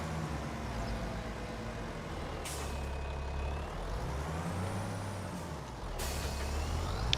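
A truck in a farming video game idles with low engine drone while air brakes hiss in two sharp bursts, a rising whine sweeping between them.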